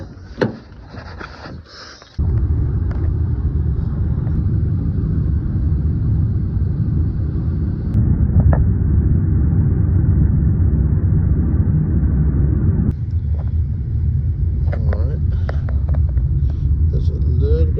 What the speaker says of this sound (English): Traffic, but not too bad.